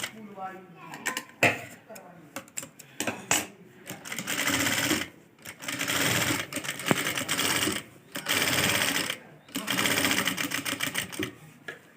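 A sewing machine stitches close along the boat neck edge of a two-layer kurti or suit, matching the neck point to the cut, in several loud, rapid bursts broken by short pauses and clicks of handling.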